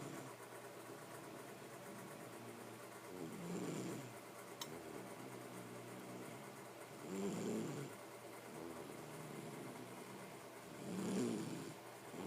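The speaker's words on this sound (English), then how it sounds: "That's you snoring, Rookie Rook." A pet snores softly and steadily, with three slow, rasping breaths swelling at regular intervals about every four seconds over a low background hum.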